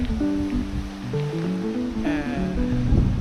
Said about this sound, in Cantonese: 呢度四周圍都係海嚟嘅。